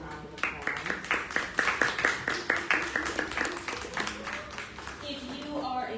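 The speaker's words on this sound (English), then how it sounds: "please give yourselves a round of applause" An audience at a poetry anthology release party applauds with a burst of rapid hand claps that builds over a few seconds, then thins out into scattered claps and murmuring voices.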